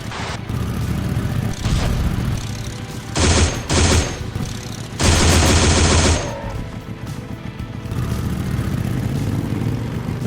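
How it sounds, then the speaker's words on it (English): 30 cal machine gun fire in the video game Ashes: Afterglow, several loud close bursts of rapid shots over a continuous vehicle engine rumble, with a long sustained burst near the middle. "Wow, these guns just tear them apart."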